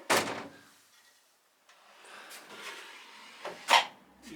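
A big shop drawer on heavy-duty 100-pound slides opens with a sharp thunk, then after a pause rolls and closes with another solid knock, close up with no talking.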